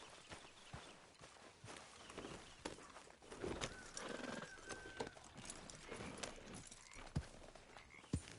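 Horse hooves clopping at a steady walking pace while riding in the video game Red Dead Redemption 2, the footfalls moderately near over ambient outdoor game sound, with an occasional snort.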